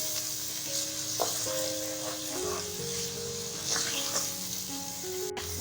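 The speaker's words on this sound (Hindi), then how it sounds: "अब ये सारे मसाले मैं इसके अंदर डालूंगी और अच्छे भून लेना है" Spices frying for chicken haleem, a steady sizzle in a pan with occasional stirring scrapes, fairly faint and continuous throughout.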